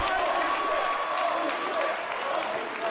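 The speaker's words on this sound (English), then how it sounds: "And just listen to this crowd, Joe. Listen to the crowd." A wrestling show crowd roars and applauds in a dense, continuous wave of cheering filling the arena, with commentators talking over it.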